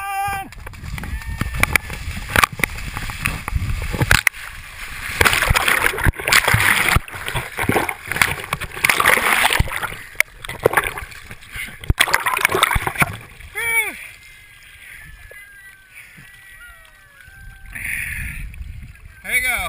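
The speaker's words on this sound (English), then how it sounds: "There you go, first jump in the water." People run and leap into open water one after another, with loud churning splashes and sloshing through the first half, then quieter lapping water. Voices shout and talk over the commotion throughout.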